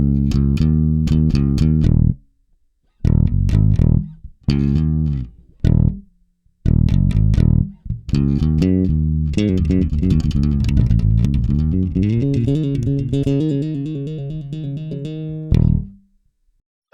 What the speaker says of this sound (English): Here's the sound of the bass dry, completely bypassed, just the bass direct.